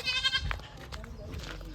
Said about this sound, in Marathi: हा बोकड आहे आणि हा अख्खा काळा आहे